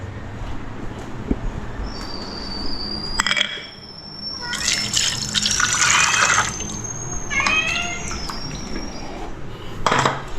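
Plates and cutlery clatter and scrape under running water at a sink, with bursts of splashing and clinking between quieter stretches; a person speaks at times.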